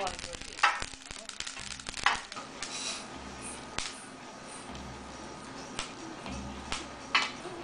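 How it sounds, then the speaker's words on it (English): Sesame seeds popping and sizzling in a pan for Korean rice cakes, a steady soft frying crackle broken by sharp little pops scattered throughout, close and fairly quiet. "This is sesame seeds, like popping like this, and then you just lower your heat."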